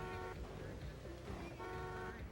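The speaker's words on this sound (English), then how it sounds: "I needed a honk." A truck horn honks in Grand Theft Auto III on the Sega Dreamcast, two sustained tonal blasts over steady game engine and traffic noise, with a short gap between them.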